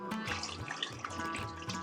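A cup of water is poured over salted chicken thigh and leg pieces for Baluchi tikka karahi, a steady close splashing rush lasting the whole moment, with no voices.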